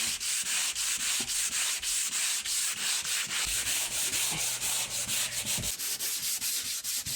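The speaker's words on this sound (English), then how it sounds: "Now y'all can just imagine me sanding for a very long time." Hand sanding of drywall repairs with a pole-handled sander, a steady rhythmic rasping scrape repeating in even back-and-forth strokes, close and continuous with no talking.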